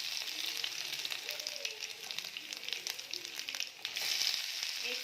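Mustard seeds, cumin and garlic sizzle in hot oil in a kadai, giving a soft, continuous hiss scattered with small crackles and pops, fairly faint throughout.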